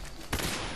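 A single loud gunshot fires in Metal Gear Solid 3: Snake Eater, a sharp burst after a quiet lead-in followed by a short echoing tail.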